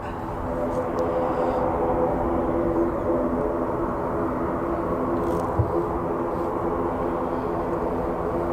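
A fixed-wing airliner departing runway 28 at Dublin Airport, a steady broad engine roar heard from a distance, continuous and even throughout with no talk.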